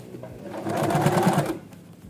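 Domestic sewing machine stitching a denim jeans hem, a steady rapid mechanical whir of needle strokes that speeds up and fades over about two seconds, close and moderately loud.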